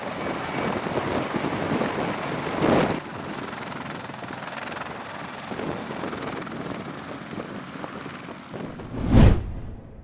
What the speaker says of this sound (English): The helicopter is also used to move casualties off the battlefield to medical facilities on Navy ships.